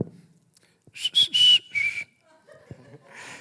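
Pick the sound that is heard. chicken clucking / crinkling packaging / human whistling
human whistling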